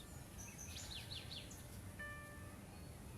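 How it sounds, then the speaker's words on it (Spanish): Small birds chirping close by outdoors, a few quick high tweets and short trills over a steady low background hum, with no one talking. "Qué bonito suenan unos pajaritos que andan por aquí."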